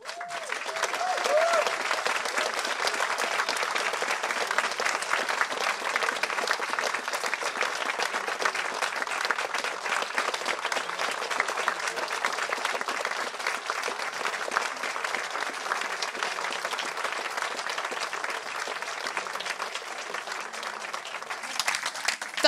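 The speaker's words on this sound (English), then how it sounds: "Another round of applause for Crystal Chissell." A lecture audience applauds steadily for over twenty seconds, a dense, even wash of clapping from a large crowd with no break.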